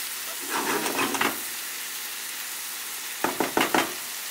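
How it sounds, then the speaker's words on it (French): Squid frying in a pan for a seafood pastilla, giving a soft sizzle broken by a few quick bursts of stirring and scraping near the start and again toward the end. "je fais cuire mes calamars"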